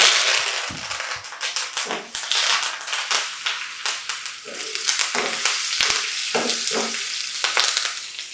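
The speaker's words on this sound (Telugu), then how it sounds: "తాలింపు కూడా అయిపోయింది" Spices being tempered in hot oil in a pan crackle and sizzle loudly, with a dense run of sharp pops over a continuous hiss.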